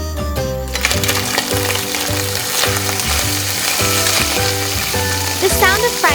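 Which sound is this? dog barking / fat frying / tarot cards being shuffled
fat frying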